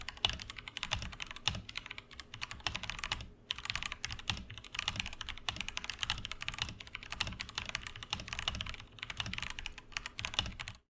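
Steady typing on a stock Akko 3108 v2 Monet's Pond mechanical keyboard, a dense, continuous patter of clacky keystrokes with a couple of brief pauses and no talking.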